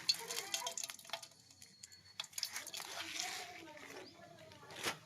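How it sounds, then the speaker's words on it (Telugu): Tempering seeds for semiya upma chutney crackle and pop in hot oil, giving a quick scatter of sharp ticks over about five seconds with a voice murmuring in the background. "ఇంకా నూనె అయితే కాగింది కాబట్టి తాలింపు గింజలు అయితే వేసేస్తున్నాండి."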